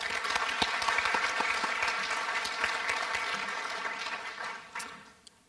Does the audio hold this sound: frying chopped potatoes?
no